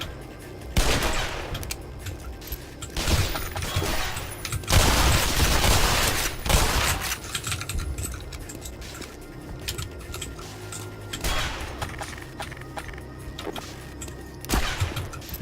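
Gunfire erupts in Black Mesa in several loud, rapid bursts, the longest and densest around the middle. Shorter volleys and single cracks are scattered through the rest, close and punchy.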